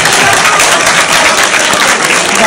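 Sustained loud applause from a conference audience at a memorial gathering in Ercolano, dense steady clapping filling the room without pause.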